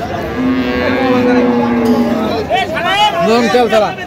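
A dairy cow with a young calf at a rural cattle market lets out a long, loud, close moo, followed by shorter calls as it fades, with faint market chatter behind.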